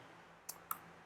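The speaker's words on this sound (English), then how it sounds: "Oh gosh, it's keyboard" Two quick sharp computer keyboard clicks during Java coding, faint and isolated against a quiet room hiss, with no talking.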